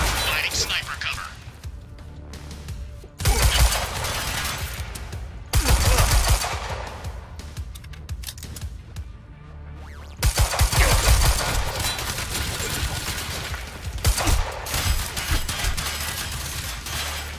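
Repeated bursts of automatic gunfire and sharp cracks in the game Quantum Break, loud and close, with voices shouting between the volleys.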